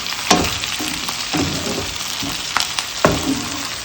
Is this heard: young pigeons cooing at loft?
no